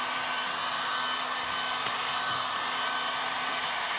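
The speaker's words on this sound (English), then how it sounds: "I'm controlling the amount of heat it's getting basically by how close I keep the heat gun to the surface" Heat gun blowing hot air onto protective film on a Corvette C7's paint, a steady close roaring whoosh that holds constant throughout with no speech.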